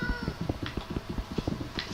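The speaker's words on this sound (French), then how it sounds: "C'était quoi ce bruit? C'est un petit chat." Cat meowing in Minecraft on Xbox One: a few short mews layered over busy, close in-game clatter and footstep-like thumps, with no clear talk during the sounds.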